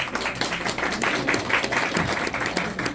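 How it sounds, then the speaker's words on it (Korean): An audience at the opening of the Gangneung International Art Festival applauds, a brisk, even burst of many hands clapping close by for a few seconds. "큰 박수 한번 부탁드리겠습니다"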